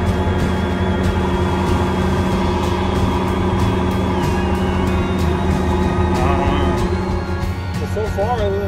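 A diesel vehicle steered by GPS autosteer drives around with a steady loud engine drone and tonal mechanical whine, joined by wavering electronic tones near the end.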